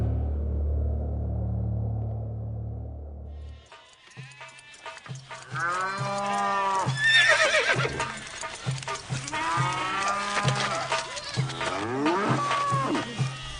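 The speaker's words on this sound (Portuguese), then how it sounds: "Os egípcios levaram a José cavalos, ovelhas, cabras, bois e jumentos" Farm livestock, including cattle, horses, sheep, goats and donkeys, call out together after a low rumble, with repeated mooing, whinnying and bleating layered across a busy stretch against faint insect noise.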